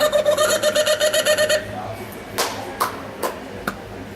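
A person imitates an Australian kookaburra's laughing call with a rapid, rhythmic burst of voiced cackles, followed by a few scattered brief sharp sounds and faint background noise.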